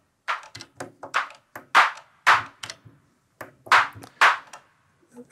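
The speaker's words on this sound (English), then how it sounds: "Oh yeah, there's a clap. And it's only that one, the classic clap." Classic clap from an Elektron Analog Rytm drum machine, triggered as a string of crisp, dry clap hits in an uneven pattern, some with a longer tail, clear and close with silence between hits.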